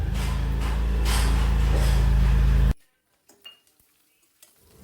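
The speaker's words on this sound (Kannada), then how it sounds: "ಉದ್ದಿನಬೇಳೆ ಸಾಸಿವೆ ಚಟಪಟ ಅಂದಾಗ ಕೆಂಪು ಮೆಣಸು, ಕರಿಬೇವಿನ ಸೊಪ್ಪು, ಇಂಗು ಹಾಕ್ಕೊಂಡು" Urad dal and mustard seeds splutter in hot oil for a tempering, a loud, dense sizzle and crackle for nearly three seconds that cuts off abruptly, leaving near quiet with a few faint clinks.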